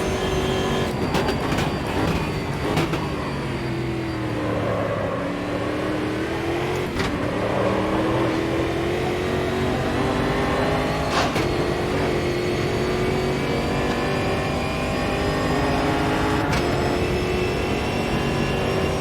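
A race car engine in the Automobilista 2 racing game drones steadily and loudly throughout, rising and falling in pitch as it revs through gears, alone with no talk.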